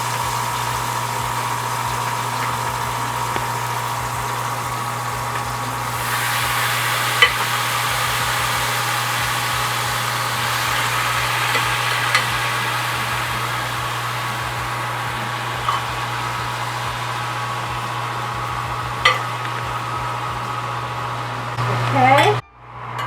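Fried steak pieces sizzle steadily in a frying pan for Spanish steak, a continuous crackling hiss over a low kitchen hum, with occasional clinks of stirring and a louder clatter at the end.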